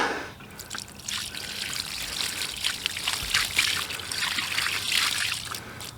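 Water is poured and trickled over a freshly cleaned headstone in a cemetery, a steady splashing rinse that runs continuously for several seconds at close range, with no talking.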